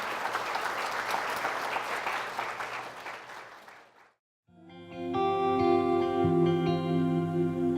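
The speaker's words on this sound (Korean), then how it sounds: "힘찬 박수로 응원해 주시면" An audience claps loudly and steadily at the opening of a sermon contest, the applause fading to a brief silence before sustained music begins.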